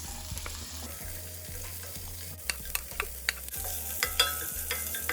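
Onions frying with crushed garlic, cumin seeds and curry leaves for a potato kurma, sizzling steadily with a low hum beneath and repeated sharp scrapes and clinks as the pan is stirred, close and without talk.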